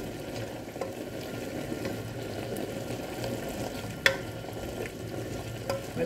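Tofu goes into a pan of frying string beans, a soft steady sizzle under light stirring and scraping, with a sharp clink of utensil against pan partway through.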